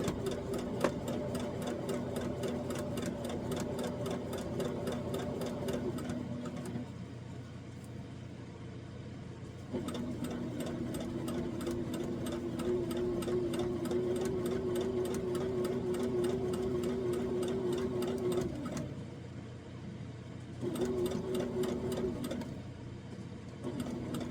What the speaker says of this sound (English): we're going to make a couple of stitches, and I'm going to make my green curve match the white